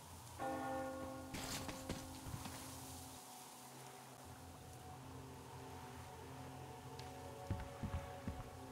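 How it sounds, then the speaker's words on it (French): A bell tolls inside the Metro Exodus video game, each ringing stroke leaving a long, sustained hum that fades slowly beneath faint ambient rumble, with a few dull knocks later on and no voices. "Tu as entendu la cloche"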